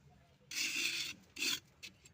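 Scraping and rasping as the inside of a homemade planter pot is carved out, two loud close bursts of gritty scraping separated by a short pause, then a fainter scrape at the end.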